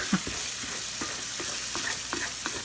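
Minced meat with ketchup fries in a pan while a utensil stirs it, giving a steady close sizzle broken by repeated scraping strokes roughly every quarter second.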